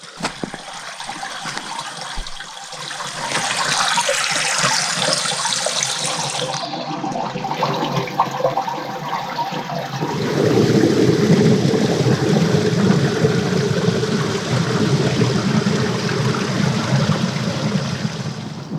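Water gushes and trickles steadily, growing louder and fuller partway through, like a stream flowing through an enclosed channel: water running through an underground soil pipe near the source of the River Severn.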